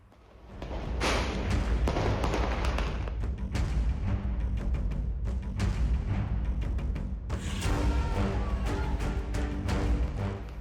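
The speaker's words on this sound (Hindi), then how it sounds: "दिवाली पर खूब आतिशबाजी हुई" Dense bursts and booms of Diwali fireworks and firecrackers, loud and continuous, with repeated sharp cracks over a rumbling wash of explosions.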